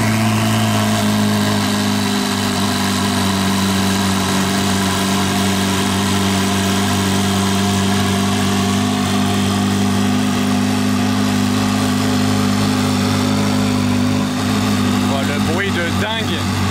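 A race car's engine idles loudly and steadily at close range, a deep rumbling drone with strong low harmonics that holds for the whole stretch, with a slight flutter near the end.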